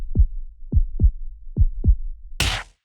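Low, thudding heartbeats in the video game Kimochii Classroom, five deep pulses in an uneven double rhythm, close and prominent against silence, followed by a short burst of broadband noise before cutting out.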